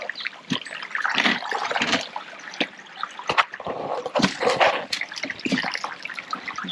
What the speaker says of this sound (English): a lot of water leaking through for now